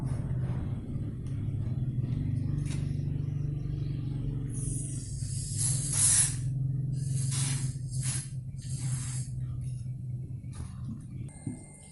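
Spray lubricant is applied to the joint of an XSP 12 monocular microscope: several short hissing spray bursts in the middle of the clip, over a constant low background rumble.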